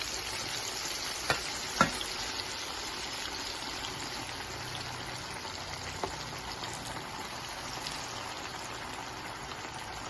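Liver pieces fry in a pan with amaranth greens, giving a soft, even, continuous sizzle with a couple of faint stray clicks, fairly quiet and steady with no talk.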